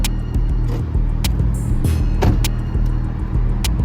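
A car passes on a downtown Dallas street, a steady loud roar of engine and tire noise close by, with faint clicks and a brief hiss layered over the traffic rumble.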